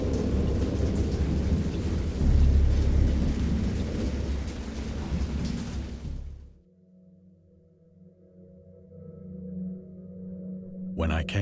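Thunderstorm with heavy rain and deep rolling thunder; a loud, dense rumble and hiss for about six seconds, then an abrupt drop to a low hum and faint rumbling with a brief burst near the end.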